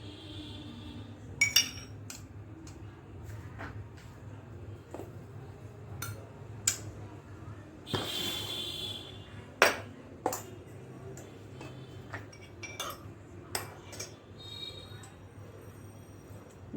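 A spoon whisks yogurt in a bowl, making scattered sharp clinks and taps against the bowl with irregular spacing over a quiet background.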